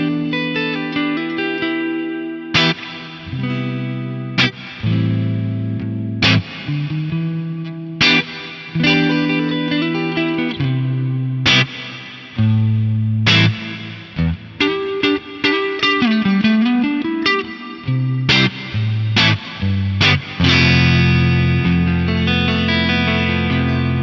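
An electric guitar plays through an Axe-Fx III processor set to a chorus hall reverb, with clean, shimmering picked notes and chords that ring out into a wide, lingering wash, loud and alone.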